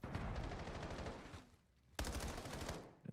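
Rapid automatic gunfire from Black Ops 7 players shooting through walls in ranked play, loud dense bursts that stop briefly around the middle and then resume with a sharp onset.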